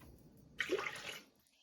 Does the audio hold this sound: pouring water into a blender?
yes